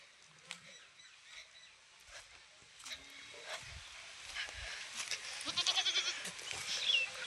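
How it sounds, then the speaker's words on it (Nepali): A goat and a kid bleat at a distance outdoors, faint scattered calls over quiet rural background, with soft voices talking intermittently. "के एउटा बाख्रा अनि एउटा पाठी"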